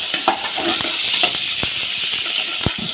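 Small onions sautéing in a pan, a steady bright sizzle with frequent sharp scrapes and taps of a stirring spoon against the pan.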